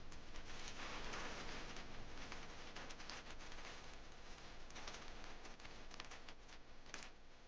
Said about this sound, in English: this rain is bad.